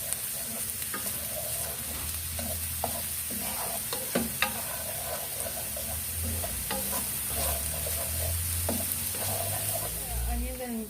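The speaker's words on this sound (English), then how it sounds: "I'm going to fry the garlic and onion until the onion becomes translucent." Garlic and onion fry in oil with a steady, close sizzle, while a utensil scrapes and taps the pan at irregular moments throughout.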